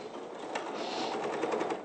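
A domestic sewing machine jams as fabric gets pulled into the needle plate at the start of a seam, set to a quarter-inch seam allowance. It gives a steady close mechanical whir with a few sharp clunks and strained knocks, and no voice.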